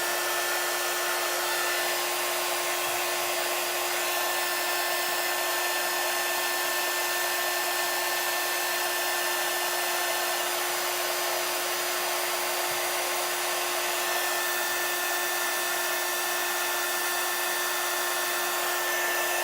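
A hair dryer blows continuously to dry a chalk paste transfer, a steady loud whir with a fixed whine that stays constant throughout.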